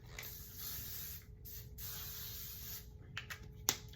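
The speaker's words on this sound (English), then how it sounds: "Let's do a little bed head spray." Hair spray hisses out in two long bursts close by, followed by a couple of shorter sprays and a small click.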